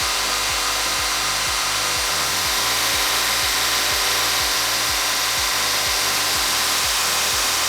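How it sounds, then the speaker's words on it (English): A power drill runs in a motocross repair workshop while rounding a part's face: a loud, steady motor whine with a regular pulsing beat, close up and without talk. "Now by using the drill"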